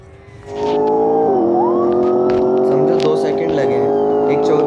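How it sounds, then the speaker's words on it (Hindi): A police car siren wailing in the Traffic Racer game, loud and close, sweeping continuously over racing engine noise, with someone talking over it. "सायरन बजा रहे हैं"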